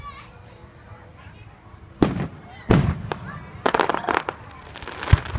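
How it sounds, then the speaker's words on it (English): A fireworks show in Jenkins sends off several sharp, loud bangs and crackling bursts in quick succession, with voices in the background. "These are actually really beautiful fireworks,"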